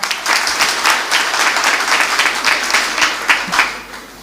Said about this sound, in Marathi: आवडला असेल तर जरा टाळ्या वाजवा